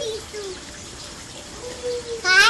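A white parrot squawks out a short, close greeting at the end of the clip, after a few faint whistly tones over soft room noise.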